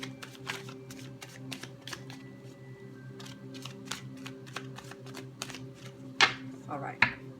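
Tarot cards being shuffled by hand for a Celtic Cross spread, a soft run of quick riffling and slapping taps, fairly quiet, with a couple of sharper card snaps near the end.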